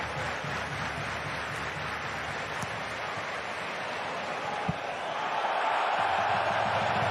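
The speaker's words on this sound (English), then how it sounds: "The crowd almost as loud celebrating that tackle as they were in celebrating the goal" Football crowd at a Bundesliga.2 match between Braunschweig and Schalke roaring after a tackle, a dense, sustained wash of distant stadium noise that swells slightly toward the end.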